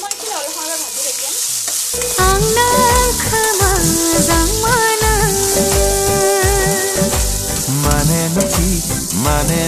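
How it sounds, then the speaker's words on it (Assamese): Chopped tomatoes with salt and turmeric fry in a pan, a close, steady sizzle running under louder melodic background music that enters after a brief opening. "এতিয়া মই এইখিনি অলপ সময় ভাজি থাকিম"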